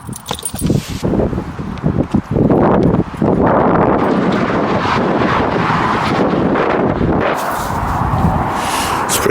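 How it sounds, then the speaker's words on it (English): Strong gusting wind on top of a bridge over the M4 motorway buffets the microphone continuously, a loud roaring rush with rumbling low end and no clear pauses. "Pretty windy here now,"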